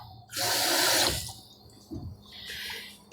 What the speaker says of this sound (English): Looks like I maybe need just a tiny bit more water this time.